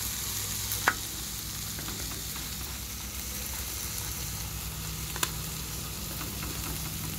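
Tortillas cooking on a hot griddle give off a steady, close hiss of sizzling with a couple of faint clicks, constant throughout and free of talk.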